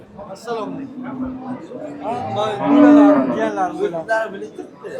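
Cattle low at the Qarshi livestock market, a long, rising moo swelling at the middle of the clip, close and loud, with other voices and market chatter around it.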